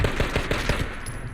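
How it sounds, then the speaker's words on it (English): Rapid gunfire from a weapon in the video game Fallout 76, a quick string of about eight close, loud shots in steady rhythm with no talking. "We are panic shooting officially."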